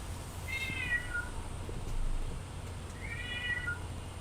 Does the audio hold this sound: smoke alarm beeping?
no